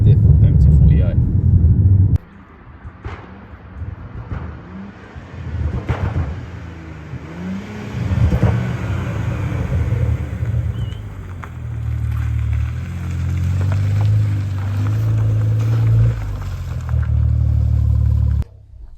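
A BMW M240i with its B58 straight-six and stock open differential is driven hard, the engine revving and droning in surges, cutting off briefly then building again as the car accelerates, loud and close.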